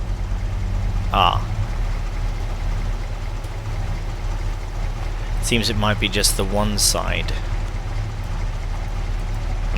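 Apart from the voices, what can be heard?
vehicle engine started and idling in Farming Simulator 22 video game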